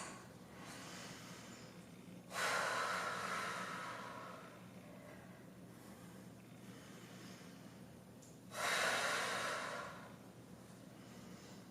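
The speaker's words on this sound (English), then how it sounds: "Make sure you keep up with that breathing" Two heavy exhalations during a dumbbell upper-body strength workout, each a loud breathy rush lasting about two seconds, several seconds apart, close to the mic over quiet room tone.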